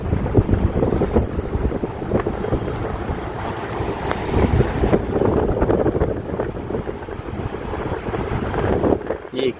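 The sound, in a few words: strong wind blowing at a 27th-floor hotel window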